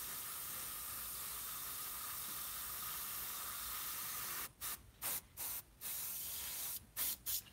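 An airbrush hisses in a long continuous spray of model paint, then in a series of short bursts with brief pauses between them.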